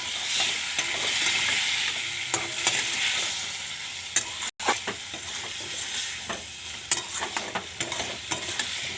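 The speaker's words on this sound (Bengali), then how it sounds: "এবার জলটা দিয়ে একটু নাড়ি।" Egg curry simmering in a pan after water has been added, stirred with a utensil that gives repeated scraping clinks over a soft, steady sizzle, close and moderately loud, with no voices.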